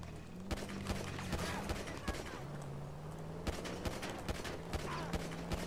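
Gunfire rings out in GTA V Online during a parking-lot shootout: scattered sharp shots, some in quick bursts, sound fairly faint over a low steady engine hum.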